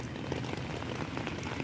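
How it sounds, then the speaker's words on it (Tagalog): Heavy rain pouring steadily and close by, a dense unbroken hiss of drops hitting surfaces in an area beginning to flood, with no voices. "Yan guys, ulan talaga dito."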